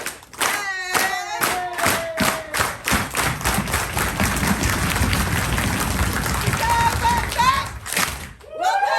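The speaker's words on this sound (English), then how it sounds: "So I say isang baksak, and then we all clap." A group claps together in unison for a unity clap called isang bagsak, sharp claps repeating through the clip along with loud cheering and voices, ending in a final burst, with talk mixed in.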